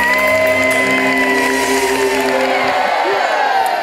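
A studio audience at the Family 100 television game show applauds and cheers for the flight attendants, a loud steady crowd roar with whoops mixed over tonal music.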